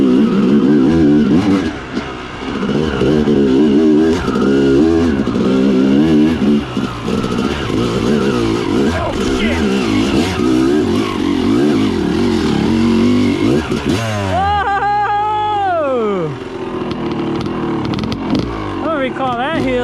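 Dirt motorcycle being ridden on an off-road trail, a steady engine drone with shifting revs throughout and a rising-then-falling whine near the end, close and loud under a rider's ongoing talk.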